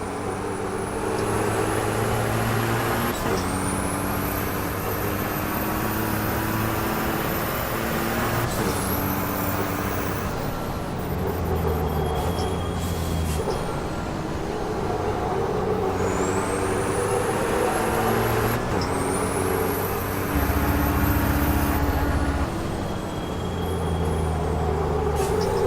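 Racing truck engines in Formula Truck 2013 drone steadily and loudly, with repeated rising gear whines and shifts across a long stretch of continuous roaring, and no talk.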